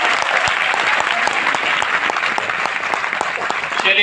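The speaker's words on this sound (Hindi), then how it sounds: "एक बार जोरदार तालियों के साथ।" A seminar audience in Ludhiana gives a loud, sustained round of applause, many hands clapping together in a dense, continuous patter that lasts the whole stretch.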